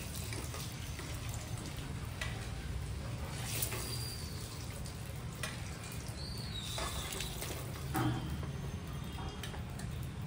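Boiled eggs frying in oil in a pan for an egg curry, a constant dense sizzle and crackle with a low rumble underneath, steady and close with small spits throughout.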